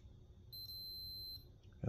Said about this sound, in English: I see it doesn't beep on the ground, but this side does